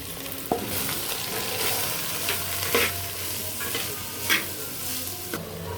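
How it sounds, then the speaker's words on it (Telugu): Onions and green chilies fry in a pan with spices for egg curry, giving a steady close sizzle broken by a few scraping stirs of a spoon. "ఇదిగండి ఉల్లిపాయలు వేగేవి కొంచెము."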